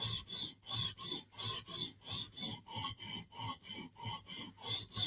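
A knife is drawn across a 150 grit sharpening stone in a steady rasping rhythm of about a dozen even strokes, each a close, loud scrape with short pauses between, with no talking.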